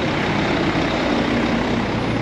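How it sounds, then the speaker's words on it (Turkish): Continuous low roar of city-centre traffic in a small Dominican town, engines rumbling steadily at close range; no distinct horn blasts stand out in the short stretch. "bu kadar ufak bir şehirde bile o kadar fazla trafik, araç sesi, korna sesi var ki"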